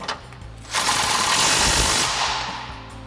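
Impact wrench on a Jeep Wrangler JK lift kit install, driving suspension bolts tight with a 16mm socket and extension: a loud, close burst of rapid hammering that runs for about a second and a half before trailing off.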